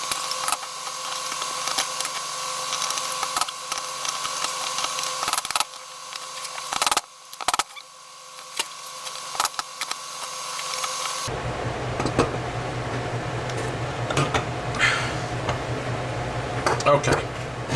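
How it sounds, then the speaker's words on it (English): Springs are reinstalled on a vintage Vespa spring gear, with a string of metallic creaks, clicks and ratcheting snaps up close, and a steady mechanical whir running in the background. "we're going to reinstall these springs"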